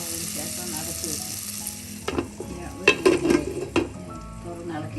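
A ridge gourd and red bean curry is stirred in a pot, a soft simmering sizzle under several clinking scrapes of a spoon against the metal.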